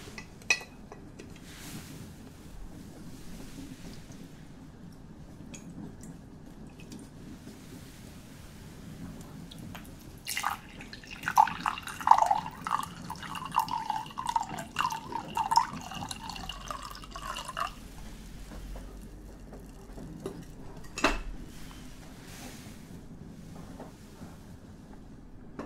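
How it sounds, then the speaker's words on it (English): Tea poured into a cup by a first class train attendant in the Emperor Suite: a soft, steady trickle lasting several seconds mid-clip over quiet background hum, with no voices. "pour your tea."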